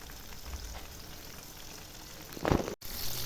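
Eggplant frying in a wok makes a soft, steady sizzle, fairly quiet, with a brief louder scrape or clatter of turning near the end and a momentary cut just after.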